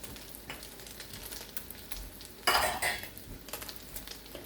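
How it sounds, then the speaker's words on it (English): Garlic is tossed and stir-fried in hot oil in a pan: a quiet, continuous sizzle with light clinks of pan and utensil, and a louder burst of sizzling and scraping midway. "as we toss it, the heat's going to start cooking the garlic"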